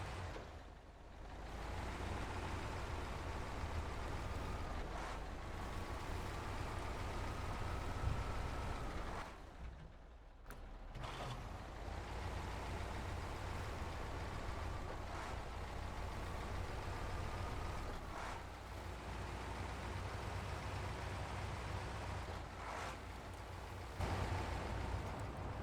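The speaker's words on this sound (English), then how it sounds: "The gearing changes in this truck sound horrendous." Heavy truck engine in the SnowRunner game droning steadily, with gear changes breaking the rumble into uneven surges and a brief drop near the middle, loud and continuous with no talk.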